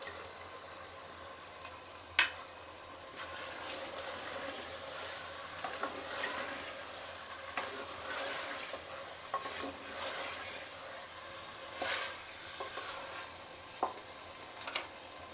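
A teaspoon of coarsely crushed cumin and a few black peppercorns sizzle in hot oil while arvi gosht is cooked. A soft, continuous fry runs throughout, broken by scattered clicks and scrapes of stirring, with no talk.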